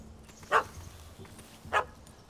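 Two short, sharp barks from a puppy in The Witcher 3: Wild Hunt on PS5, spaced about a second apart, fairly close against a quiet, hushed game ambience.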